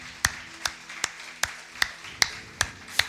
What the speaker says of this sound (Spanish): Dale otro fuerte aplauso al Señor en esta mañana